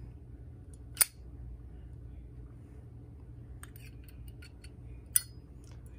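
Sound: Zippo lighter lid clicking open and shut

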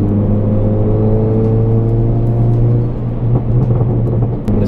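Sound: tuned Hyundai Elantra Sport accelerating

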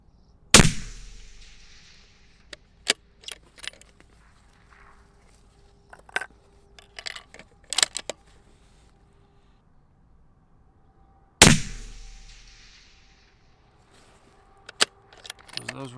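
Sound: 6.5 SAUM rifle shots during load development

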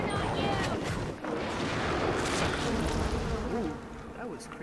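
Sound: swarm of bees attack in BioShock video game

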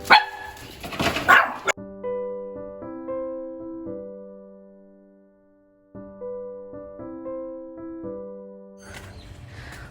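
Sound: dogs barking at a dog farm

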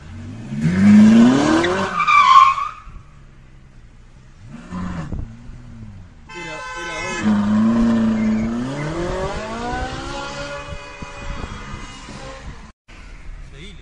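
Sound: car accelerating

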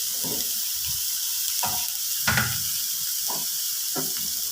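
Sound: stirring bitter gourd, carrot and coconut mixture in a pan

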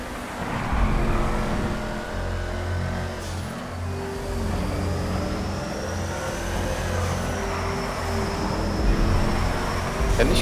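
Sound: car engine driving in video game GTA Online

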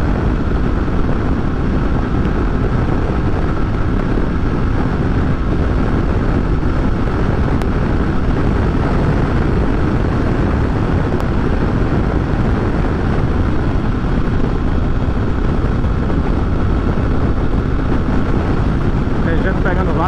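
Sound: motorcycle engine riding with a passenger

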